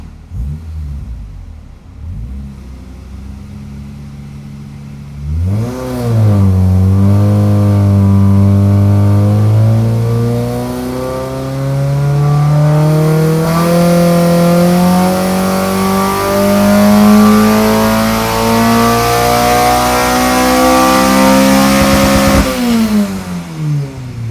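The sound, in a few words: K24-swapped Mazda Miata engine revving on a dyno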